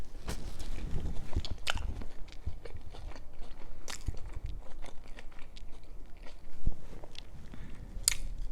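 Crunchy, slightly overcooked french fries bitten and chewed up close, a steady run of crisp crunches and wet mastication sounds with a few sharper bites, no talking.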